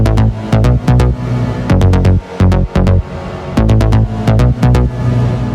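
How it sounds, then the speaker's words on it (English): A punchy electronic drum loop in Ableton Live with sharp kicks and snares, each hit trailing a grainy, less smeared reverb tail with diffusion turned off; loud and steady, no voices. "Here's what it sounds like with the diffusion off."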